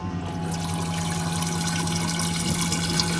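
Tap water pouring into a cooking pot to boil pasta, a steady, close, continuous rushing hiss with a low hum underneath that holds throughout.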